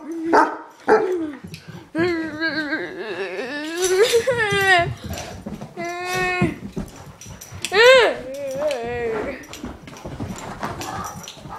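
Dogs bark and whine near the microphone in an excited, repeated burst that runs throughout, mixed with whimpering and some horse-like sounds during a scuffle between a horse and a black panther.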